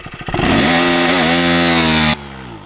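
A KTM 390 Duke motorcycle engine held at high revs by launch control, a loud, buzzy, sustained close-up rasp that climbs quickly, holds steady for about two seconds and then cuts off sharply.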